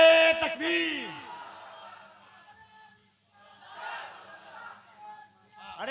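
At a religious conference in Dumra, a crowd shouts a loud massed reply to a takbir slogan call, voices surging together at first, then a second, softer group shout follows a few seconds later.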